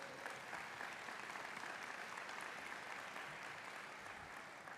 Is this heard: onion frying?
no